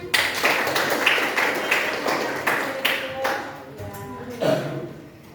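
Applause from a classroom group during an Indonesian teacher-training lesson: scattered claps, fairly sparse and uneven, with some voices and a few ringing taps mixed in, fading toward the end.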